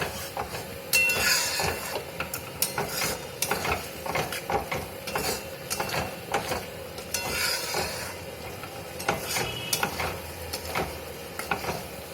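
A spoon scrapes and taps repeatedly through a pan of masala with cashew paste as it cooks, irregular stirring strokes over a low sizzle, close and moderately loud.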